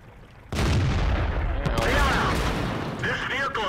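A sudden loud tank cannon blast in a World War II tank video game, its boom ringing out into a long, rumbling decay with crackling debris and a second, lighter impact sound near the end.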